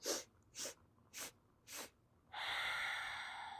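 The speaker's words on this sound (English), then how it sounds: "take 4 sniffs in through the nose and then a long exhale out the nose to the count of 4" Four short, sharp sniffs drawn in through the nose during a Kundalini breathing kriya, evenly spaced, followed by one long, steady exhale out the nose, close and fairly quiet with no talking.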